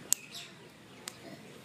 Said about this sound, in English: Nice cool breeze and the birds are chirping this morning.